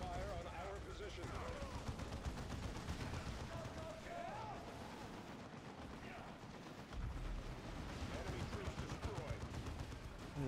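Gunfire from Space Marine squads fighting in Dawn of War 2 Chaos Rising, with dense continuous bursts and explosions crackling beneath game voice lines and battle noise.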